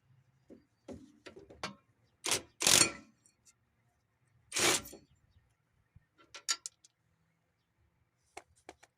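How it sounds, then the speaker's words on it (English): Ratchet turning a 14 mm bolt out of a broken brake caliper bracket: a few short bursts of quick metallic clicking and rasping, fairly close, separated by quiet gaps with small handling knocks. "We're gonna use our ratchet."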